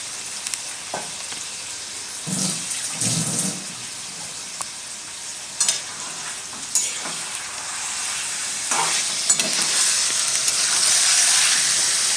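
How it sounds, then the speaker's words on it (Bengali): Duck meat sizzling steadily as it fries in a pan for a thin winter curry, with a few louder bursts of crackle and occasional stirring clatter over a constant hiss. "পুরো মাংসটাই আমি ভেজে নিচ্ছি"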